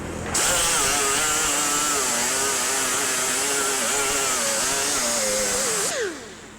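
An angle grinder grinds weld off a car body patch panel in a collision repair shop, starting abruptly and running as a loud, continuous, slightly wavering whine for about six seconds before spinning down.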